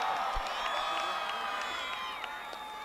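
A lively crowd at a 1996 President Clinton rally in Westland, Michigan, cheering and whooping continuously, with scattered shouts and claps forming a dense, sustained roar that eases slightly toward the end.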